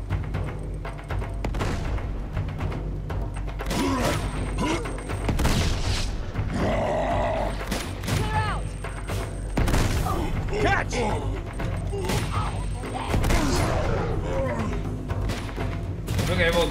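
Bursts of video game gunfire crack out in repeated volleys with heavy booms and thuds, loud and close, while voices call out over the shooting.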